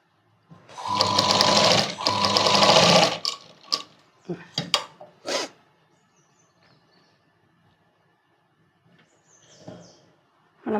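A sewing machine stitching a child's night dress runs in two close, loud bursts, then gives a few short clicks and taps before falling mostly quiet.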